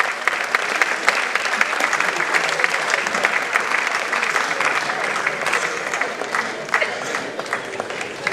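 Sustained audience clapping at an annual school program and prize ceremony, a dense, loud wash of many hands heard close and continuous throughout with no talk.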